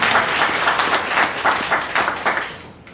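A crowd at an outdoor Korean patriotic protest rally over alleged election fraud breaks into loud, sustained applause, with dense clapping that holds steady for a few seconds before thinning out.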